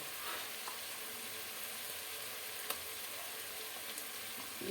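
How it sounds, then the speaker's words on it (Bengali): Onion frying with ginger and garlic paste while making chilli prawns, a faint, even sizzle throughout with a couple of tiny clicks, no voices. "এবার পেঁয়াজের সঙ্গে আদা রসুনটা ভালো করে একটু ভেজে নেওয়া হবে যাতে কাঁচা গন্ধটা চলে যায়"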